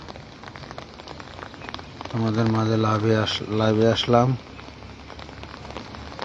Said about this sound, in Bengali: দেখো কীভাবে ঘুরে ঘুরে বৃষ্টি পড়ছে